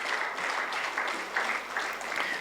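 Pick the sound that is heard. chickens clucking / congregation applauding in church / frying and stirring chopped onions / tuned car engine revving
congregation applauding in church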